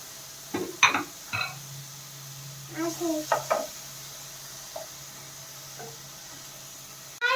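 Chopped onion and tomato being sautéed in a pan for masala oats: soft scraping stirs and utensil clinks over a faint, low sizzle, with a few pot knocks and a louder clatter at the end.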